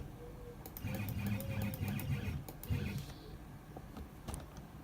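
Whirring, buzzing stepper motor of an EleksMill CNC machine moving along its z-axis, a steady mechanical hum lasting a few seconds with faint clicks, close by.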